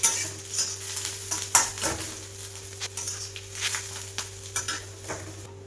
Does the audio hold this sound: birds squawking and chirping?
no